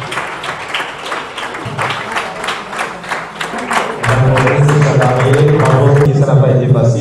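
Audience applause at a women's business gala awards evening as a winner is called up, dense steady clapping with music entering partway through and continuing under it.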